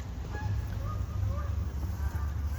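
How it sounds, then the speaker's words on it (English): Geese honk intermittently at a moderate distance over a steady low rumble, several short calls scattered across the clip with no talking. "Birds."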